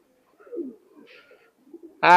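Soft, low cooing from a red golden pigeon, a couple of brief murmuring calls in a quiet space, ending with a sudden louder burst.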